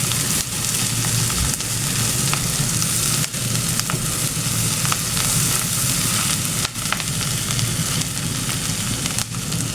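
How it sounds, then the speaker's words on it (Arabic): Onion and garlic sauté in a pan for Egyptian moussaka, a loud, continuous crackling sizzle with occasional stirring knocks. "واخيرا شلناهم وننزل بالبصله الثومه يقعد التشويحه بتاعتهم"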